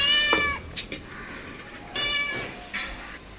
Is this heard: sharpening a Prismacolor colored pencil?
no